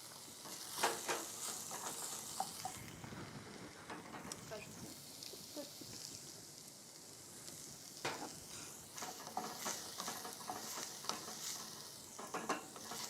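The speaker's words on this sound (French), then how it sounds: "je vais mettre les oignons" Onions sweat in a pan for a scallop dish, giving a quiet, steady sizzle broken by scattered clicks and scrapes of stirring, with occasional talk over it.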